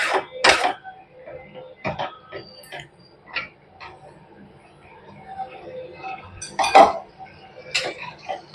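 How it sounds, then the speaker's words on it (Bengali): Tuna fish curry is stirred in a pan in Bengali style, with scattered scraping knocks and metallic clinks of a spoon against the pan at an uneven pace, fairly close, and no one speaking. "একটু নাড়াচাড়া করে নেব"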